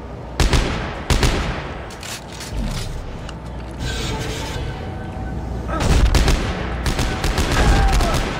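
Gunfire in the co-op sci-fi horror game Dead Space 3 comes as sharp shots and rapid bursts, loud and close, mixed with mechanical rattling and a busy noisy backdrop.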